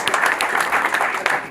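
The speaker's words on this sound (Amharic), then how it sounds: "እስቲ ለጌታ በደንብ አድርጋችሁ አጨብጭቡለት።" A church congregation claps together in dense, steady applause that fills the hall for a moment.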